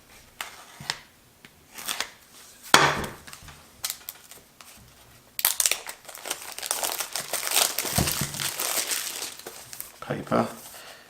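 Paper packaging of a DJI Osmo Pocket box being scored and cut with a blade, close crinkling, scraping and tearing sounds in irregular bursts that grow busier toward the end, with no talk over them.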